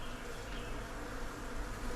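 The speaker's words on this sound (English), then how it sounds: "Try and get the majority of the bees out of the way." Honeybees buzzing in a dense swarm during a hive cutout removal, a continuous low drone close by and fairly faint, steady with slight swells and no talking.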